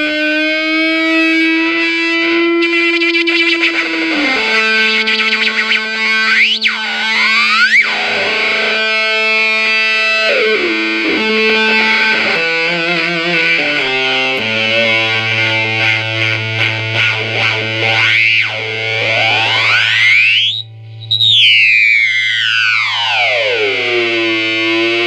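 Electric guitar played through a Zvex Probe theremin-like effect pedal, sustained distorted tones that slide and sweep up and down in pitch, loud and alone.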